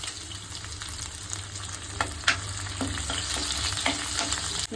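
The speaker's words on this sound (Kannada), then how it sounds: "ಇದನ್ನು ಹಾಕ್ಕೊಂಡು ಚೆನ್ನಾಗಿ ಫ್ರೈ ಮಾಡ್ಕೊಳ್ಳೋಣ" Garlic, onion, green chili and curry leaves fry in hot oil for an instant curry sambar, a steady close sizzle broken by a few sharp stirring clinks.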